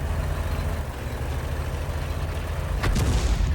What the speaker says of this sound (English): There's the artillery shell, landing just near the Toldy.